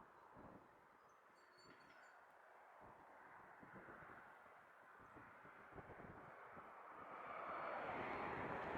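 A Transat airliner takes off from runway 07 at Montego Bay, Jamaica. Distant jet engine roar rises and swells steadily toward the end, with soft wind-like rumble underneath.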